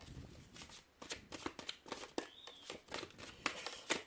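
Tarot cards being shuffled by hand close up: a quick run of crisp riffling and slapping bursts, fairly quiet and uneven in rhythm.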